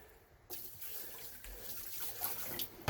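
Antifreeze poured into the bilge of a 1992 Sea Ray Sundancer 230 boat: after a quiet start, a sudden steady gurgling splash of liquid runs on, close and moderately loud.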